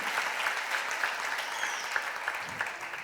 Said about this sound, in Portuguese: Aplauda o nome do Senhor em nome de Jesus.